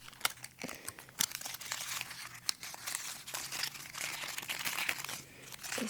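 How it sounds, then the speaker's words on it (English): Foil wrapping of coconut incense matches being crinkled and crumpled up close, a quiet, busy run of crisp crackles and sharp little crunches with no talk. "Playing with the foil a little for the foil people."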